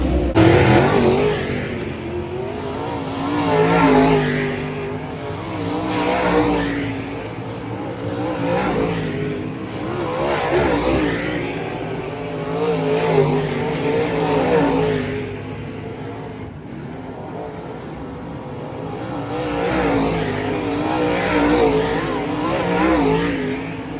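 Race cars roar off at the start of a heat race at 81 Speedway, engines revving and rising in waves as they accelerate around the track, loud and sustained for the whole stretch, with no talk.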